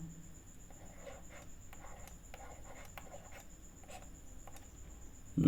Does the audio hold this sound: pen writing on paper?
yes